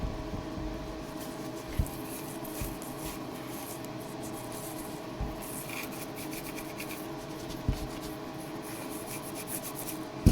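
Driftwood being wiped with an alcohol-soaked rag, a faint, steady rubbing and scuffing with a few soft knocks, heard close and quiet.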